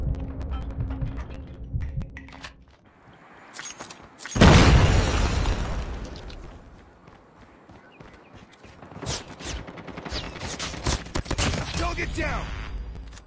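A grenade blast in Call of Duty: Mobile multiplayer, one sharp loud boom with a rushing tail amid scattered game gunfire, footsteps and mechanical clicks.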